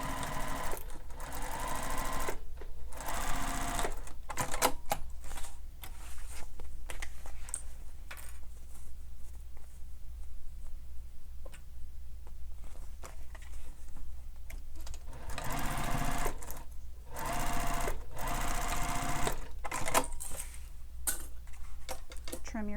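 A sewing machine stitches a bag lining panel in rapid, steady bursts that start and stop several times, with quieter pauses between runs.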